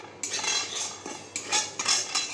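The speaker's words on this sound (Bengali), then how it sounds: "একটু ডালিয়াটা ভেজে নেবো" Broken wheat (dalia) is stirred in a kadai with a little oil, a metal spoon scraping and clinking against the pan in several short, close strokes.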